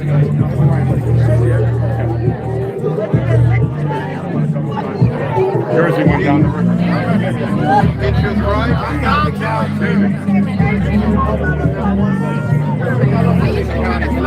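A dense, loud crowd chatters at a New York City mayoral election results watch party, many voices overlapping continuously with traffic rumble underneath, and a nearby person talks over it.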